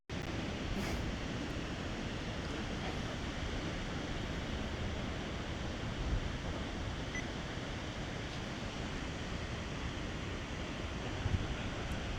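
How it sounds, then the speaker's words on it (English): Steady, broadband wind noise rushes continuously across the microphone over a beach in Da Nang, Vietnam, low and even throughout, with no voices. "It's pretty windy today."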